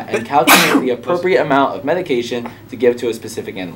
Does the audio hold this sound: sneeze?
yes